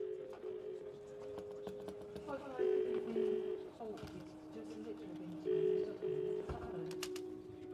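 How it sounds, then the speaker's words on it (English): Call to a public phone box with an ambulance dispatcher, phone line tones and a repeating ring-back buzz in steady pulses, faint and under quiet voices. "Tom calls the phone box again"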